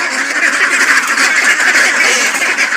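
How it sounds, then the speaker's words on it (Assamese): Ducks on a duck and chicken farm quacking together: a dense, loud, close chorus of overlapping quacks and honks with no break and no talking. "এয়া হৈছে আমাৰ হাঁহ মুৰ্গী ফাৰ্ম।"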